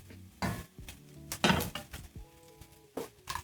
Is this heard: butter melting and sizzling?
yes